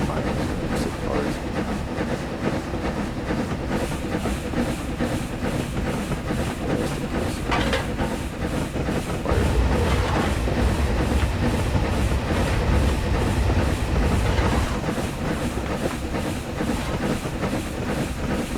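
A S&DJR 7F 2-8-0 steam locomotive in Train Simulator Classic climbs with six cars, giving a steady rolling rumble and hiss that swells louder and heavier midway, with brief sharper puffs standing out.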